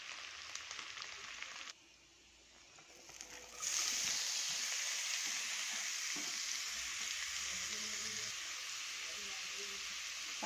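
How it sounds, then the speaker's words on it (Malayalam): Leftover vegetables are sautéed in oil in a pan after the chicken is removed, for a chicken rice dish. The pan sizzles softly, then a loud, steady frying hiss takes over after a few seconds, with a voice faintly underneath. "ഈ ഓയിലിൽ തന്നെ നമുക്ക് ബാക്കി വെജിറ്റബിൾസ് ഇട്ടൊന്ന് വഴറ്റി എടുക്കാമേ"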